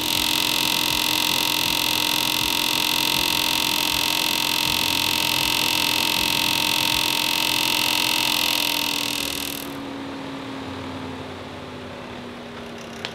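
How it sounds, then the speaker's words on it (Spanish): Cooling fan of a Seat Altea running, a loud, steady electric whir with a tonal hum, that winds down partway through, leaving a lower, fading drone and a small click at the end. "¿Estás escuchando el ventilador?"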